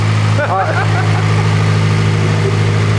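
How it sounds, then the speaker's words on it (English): Turbocharged Honda S2000 AP2 idling through a Greddy exhaust, a loud steady low rumble close by, with a voice speaking briefly over it early on. "I couldn't hear you over that beautiful Greddy exhaust."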